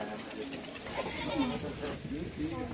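Several goats bleat at moderate distance on a goat farm in Dera Ghazi Khan, their wavering cries rising over a busy background of voices and farmyard noise.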